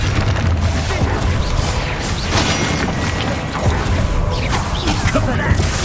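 A Bombarda spell blast in the video game Hogwarts Legacy, a loud booming explosion with crashing debris and whooshing effects, filling a dense, continuous mix of combat sound while a voice talks over it.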